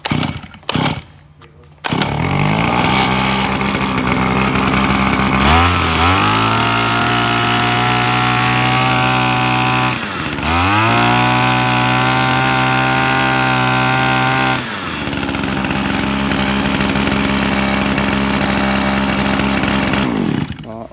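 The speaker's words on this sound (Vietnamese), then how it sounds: "Sẽ test nổ luôn cây máy V0." A small two-stroke Robin-type brush cutter engine, model V0, starts after a couple of pulls and runs loudly up close, revving up and down in several throttle bursts with a buzzing, harmonic drone.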